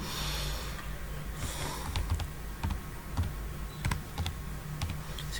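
Computer keyboard typing an ID card number with dashes, a rapid run of light key clicks over a steady low room hum, with no talking.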